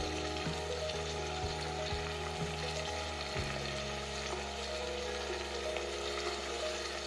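Garlic chutney, cumin and turmeric hit hot oil for a brinjal, potato, tomato, drumstick and pea curry, giving a steady, loud crackling sizzle throughout, with a few soft clinks early on and no talking.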